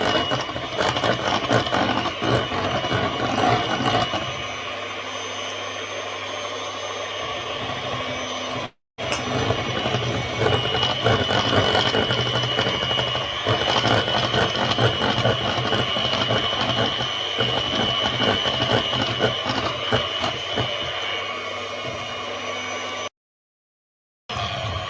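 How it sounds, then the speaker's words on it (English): An electric mixer beats icing sugar into egg white with a continuous loud mechanical whir and rattling, dipping in pitch at times, with two brief full stops. "You want to keep doing that until all the icing sugar is mixed in with the egg white."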